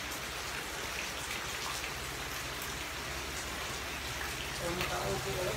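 Steady rain falling in a rural province in Bohol, a dense, even patter throughout, with people talking faintly underneath.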